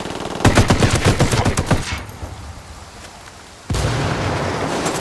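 Gunfire in the Ghost Recon Wildlands video game: a dense, rapid automatic burst of shots, then a lull of rumbling ambience before heavy firing resumes abruptly and continues loudly.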